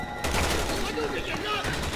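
In Resident Evil 6, a rapid volley of gunfire runs through a short moment as a dense, noisy crackle, with faint voices underneath.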